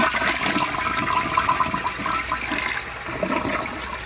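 A 1998 Sterling Windham front-flushing toilet with a flushometer flushes in one loud, close, continuous rush of water that fades slightly at the end, with no talking.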